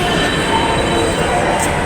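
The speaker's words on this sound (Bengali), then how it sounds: "ট্রেন আসতেছে, মেট্রো রেল।" A metro rail train pulls into a station, a loud, steady broadband rumble and rush of wheels and motors filling the whole stretch with no break.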